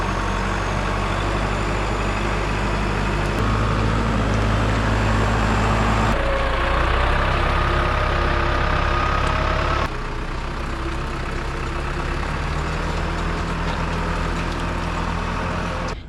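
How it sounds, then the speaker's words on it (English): A farm tractor's diesel engine runs steadily nearby with a low, even rumble, shifting load a few times as it maneuvers; no talking is heard. "We'll back the tractor up to the post"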